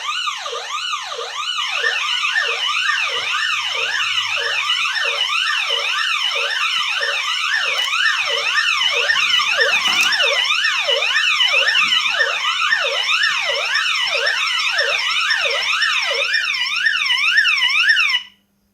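A security system's bell box, triggered by a personal attack button, wails steadily in fast rising-and-falling sweeps, continuing unbroken for many seconds before cutting off abruptly.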